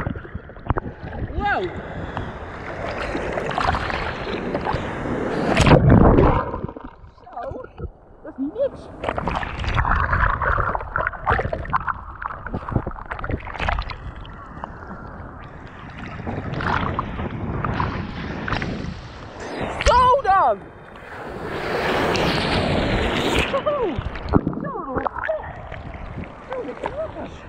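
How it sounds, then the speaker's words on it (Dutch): High sea waves crash and wash onto a beach in the evening, a loud, continuous surging roar with splashing swells, while people talk and exclaim over it nearby. "Hoge golf."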